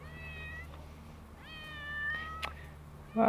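Two clear cat meows, the second longer and rising, close by, with a steady low hum underneath and a brief knock near the end.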